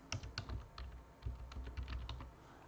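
Rapid, irregular keystrokes on a computer keyboard as a name is typed in, close and fairly quiet, with bursts of clicks and short pauses and no talking.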